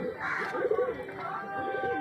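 An old homing pigeon, a strong flyer kept as a pet in a loft, coos in low, rolling murmurs close by, with some faint talk in the background.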